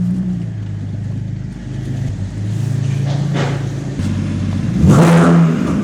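A BMW E60 engine revs inside a workshop garage, throaty mid-pitched rises and falls over a steady idle, building to a louder, sharper rev near the end, close and loud with no talking.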